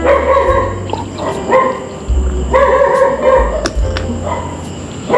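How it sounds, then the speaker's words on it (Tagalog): Dogs bark repeatedly in loud bursts with yips mixed in, over a steady background hum. "nagwawala ng mga aso namin"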